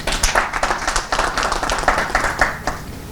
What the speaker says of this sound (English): Can we have just a big round of applause for all of our presenters?